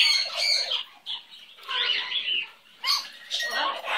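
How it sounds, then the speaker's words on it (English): A pet bird gives loud, harsh squawks in several bursts, close by with brief pauses between calls. "You funny little bird."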